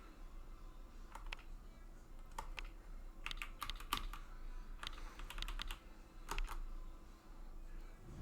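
Quiet computer keyboard typing: irregular bursts of soft key clicks tapping close by, with short pauses between runs of keystrokes.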